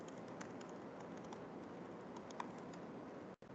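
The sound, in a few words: someone typing on a keyboard during a meeting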